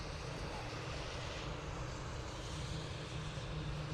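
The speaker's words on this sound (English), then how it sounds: "787 Dreamliner heading off to Toronto" A Boeing 787 Dreamliner jet departing Dublin Airport for Toronto produces a steady, broad engine roar that holds evenly at a distance with no clear rise or fall, and faint voices may be present underneath.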